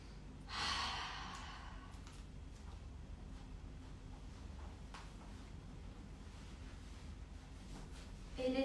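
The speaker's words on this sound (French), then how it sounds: "Prenez 3 grandes respirations par le nez, par la bouche." Deep breaths through the nose and mouth during a yoga class: one clear, audible breath near the start, followed by soft, faint breathing under a low background hiss.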